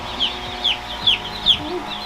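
Cornish Cross meat chicks cheep in a brooder, four clear high peeps spaced about half a second apart over a low background hum.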